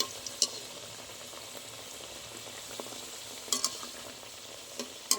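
Kadam nimki frying in a little hot oil in a pan while being turned, a soft, steady sizzle with scattered crackles and a few sharper pops, heard alone without voices.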